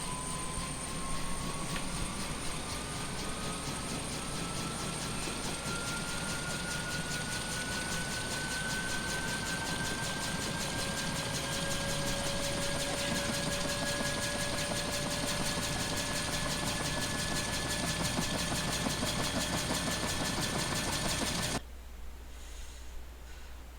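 In the X-Plane 11 flight simulator, a Nimbus Huey UH-1 helicopter engine starts up, a steady turbine roar with a slowly rising whine that holds throughout, then drops abruptly near the end; no speech.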